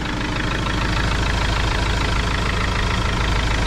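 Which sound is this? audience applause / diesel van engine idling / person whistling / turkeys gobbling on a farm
diesel van engine idling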